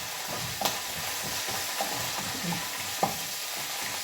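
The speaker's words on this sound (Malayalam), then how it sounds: "ഓക്കെ, കറിവേപ്പിലയൊക്കെ ഒന്ന് മൂക്കട്ടെ" Curry leaves frying in hot oil, a steady close sizzle with a few light clicks of a spoon stirring, no voices.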